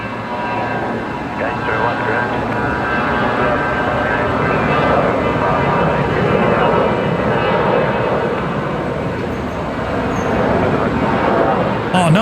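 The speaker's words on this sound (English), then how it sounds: "now the Fokker is departing down to Newcastle" A Fokker jet departs Brisbane Airport at night for Newcastle, a loud, sustained engine roar holding steady, with voices talking over it.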